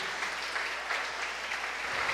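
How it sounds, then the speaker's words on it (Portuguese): Steady applause rises from a church congregation at an evening family conference, a full, continuous patter of many hands heard close and without talking. "Você pode dar um forte aplauso a ele por isso?"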